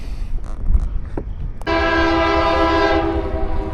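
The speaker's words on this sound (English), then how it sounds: "And another train." A few faint clicks and rumbles give way to a loud, sustained train horn blaring over the rolling noise of a train passing along the Missouri River.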